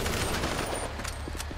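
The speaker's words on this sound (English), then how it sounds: "Hide behind stuff until he stops shooting." An enemy fires at the player in GTA 5, a steady, muffled rattle of gunfire that runs through the whole moment, loud and fairly close, with a few sharper cracks near the end.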